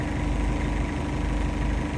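A tractor engine works under a fair load while windrowing, giving a steady, close, low-pitched drone with an even vibrating rumble and no pauses throughout.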